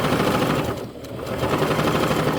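A sewing machine backstitches a tote bag in a rapid, continuous mechanical rattle of needle strokes that is close and loud, with only a brief dip in the middle.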